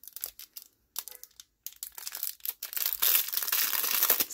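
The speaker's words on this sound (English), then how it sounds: "Sorry for the crinkling" Sealed plastic packaging for craft supplies crinkles and tears in close, irregular bursts that grow into continuous loud crackling as it is pulled open.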